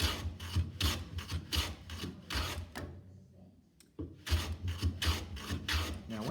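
A hand plane shaves a wooden footstool leg in steady, rasping strokes, close and fairly quiet, pausing briefly midway before the strokes resume.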